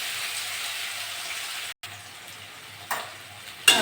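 Potato pieces with salt and turmeric fry over onions in a pan, a close, steady sizzle with a brief gap midway and a couple of sharper clatters of stirring toward the end, with no voices.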